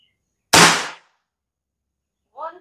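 A single sharp, loud shot from an RTXX double-plenum air rifle cracks out and decays quickly, followed by silence and a brief faint clink.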